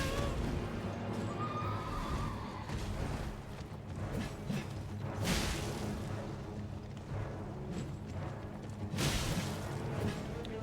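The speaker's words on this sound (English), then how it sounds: "I forgot that the horse summons that quickly." A horse whinnies as it is summoned in the video game Elden Ring, heard over a steady, busy bed of game sounds and combat noise, with no talking.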